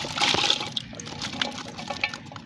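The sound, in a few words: pouring half a glass of water into potato keema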